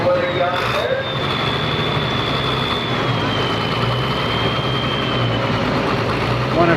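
A tractor engine runs at a steady idle, a continuous low mechanical rumble with a thin high whine above it. A person's voice is heard over the running engine.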